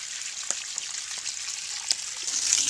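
Water hisses and sprays steadily from a hose on a farm, filling water for horses, a soft continuous rush with a few faint splashes and drips.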